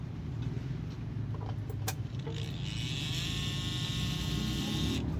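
A repaired Yamaha NMAX motorcycle fuel pump running on test, giving a steady electric whirr with a faint high whine under continuous low rumble for about five seconds, close by, with no talking.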